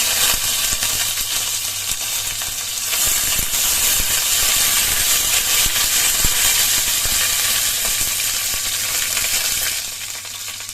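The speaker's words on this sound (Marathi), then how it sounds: "राई तडतडली की लगेच जिरं" Mustard seeds crackle and sputter in a tablespoon of hot oil for tempering, a dense sizzling hiss with sharp pops throughout, close and steady, easing slightly toward the end.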